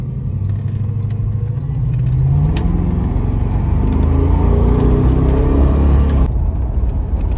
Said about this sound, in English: I'm driving it, y'all, and it's steering fine